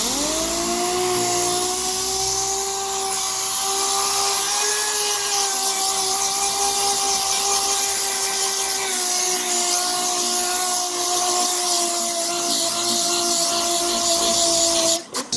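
Power sander with 400 grit sandpaper working over freshly flow-coated paint on a custom flag design, a steady loud whine with shifting tones that runs nearly unbroken, then cuts off at the end.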